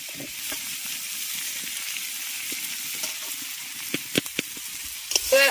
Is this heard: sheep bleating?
no